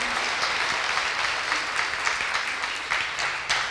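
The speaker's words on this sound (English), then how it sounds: "Frankie, come on up here. Give him a round of applause." A church congregation applauds to welcome Frankie Charles to the front, a steady wash of clapping from many hands that fills the room from start to finish with no talking.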